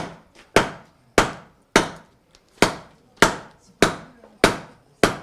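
A hammer strikes hot metal at a forge demonstration during an open day in Aldudes, landing about nine evenly spaced, sharp, ringing blows that fade quickly between hits in a quiet space.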